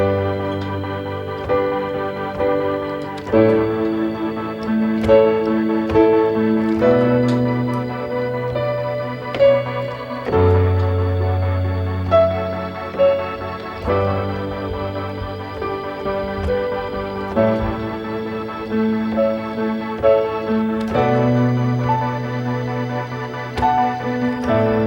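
A full keyboard arrangement plays a song, layering warm pads, piano, B3 organ and synth in steady rhythmic chords with a moving bass line, loud and alone with no talking throughout.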